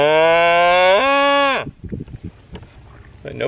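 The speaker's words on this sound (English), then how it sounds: "I need both hands if I'm gonna talk to cows." A loud, close cow moo lasting over a second beside the Connecticut River, then quieter rustling and faint scattered sounds after it.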